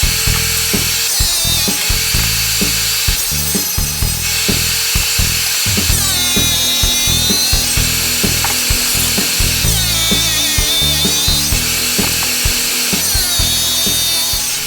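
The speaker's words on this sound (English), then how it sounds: "we got the Master Wholesale blade loaded up and ready to cut" A tile saw fitted with a Master Wholesale diamond blade grinds through tile, loud and close, with a continuous motor drone and repeated rising screeches as the blade works through each pass.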